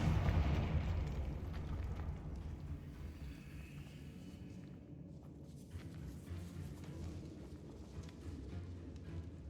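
Confringo fire spell exploding in a decayed Hogwarts catacomb in a video game: a loud booming burst at the start that decays into a long, rumbling low roar and crackle.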